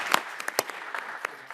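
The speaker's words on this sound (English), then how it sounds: "One more round of applause." Sparse, fairly quiet clapping from a few people at a school board of education meeting, individual claps scattered irregularly across the moment rather than forming a full round.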